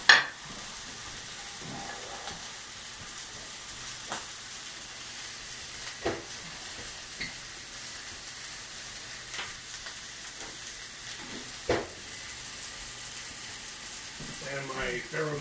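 Greens wilting in a hot pan, a faint, even sizzle and hiss with occasional small clicks and pops, heard quietly and from close by.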